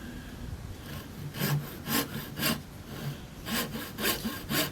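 A hand saw cuts through wooden base or crown trim, set to cut on the downstroke, in a steady rhythm of raspy strokes, each rising and fading about every half second, close and clear with no talking.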